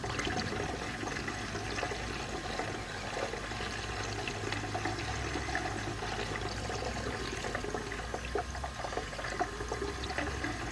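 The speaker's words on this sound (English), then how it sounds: "you see water just coming out" Coolant water runs out of a 1996 Dodge Intrepid during a coolant pipe job, a steady close splashing stream that continues without pause, with no talk over it.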